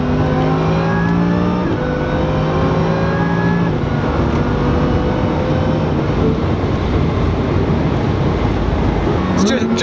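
An 800 wheel horsepower rally car accelerates hard through its gears, with a loud, close engine rising in pitch, dropping at each shift and climbing again, and voices talking underneath.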